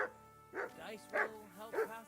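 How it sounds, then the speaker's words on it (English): A dog barks in short yelping bursts in Kingdom Come: Deliverance 2, about four barks spaced roughly half a second apart, moderately loud and close, with speech also present. "Hey, yo, my dog's barking."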